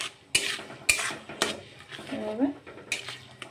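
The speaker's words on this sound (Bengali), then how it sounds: "অল্প কষে দেব" Spices being sautéed in a pan for dum aloo, a few sharp clinks of a spatula against the pan over a faint sizzle, with someone speaking briefly nearby.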